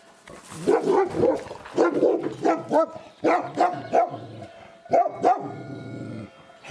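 A dog on the Mt. Olympus trail in Greece barks repeatedly, up close and loud, in an irregular string of sharp woofs with a few yelping, whimpering notes between them.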